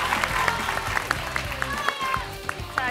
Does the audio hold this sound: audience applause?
yes